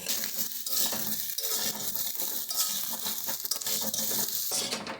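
Potato pieces frying in a pan for winter vegetable khichuri are stirred, a loud continuous sizzle under rhythmic scraping and clattering strokes of the spatula against the pan.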